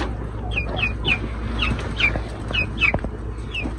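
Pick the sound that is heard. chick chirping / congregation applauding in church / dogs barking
chick chirping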